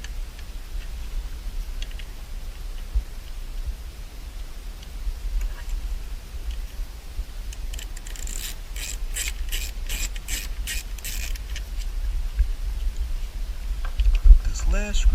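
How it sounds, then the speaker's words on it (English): Screws being driven into a trim panel on a Chevy SS sedan / Holden Commodore, a soft rapid ratcheting burst of clicks partway through over a steady low hum, with a few faint taps near the end. "Go ahead and put these screws in."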